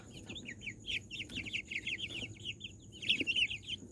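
A small flock of chicks and hens keeps up a busy run of soft peeping and clucking close by, with no talking.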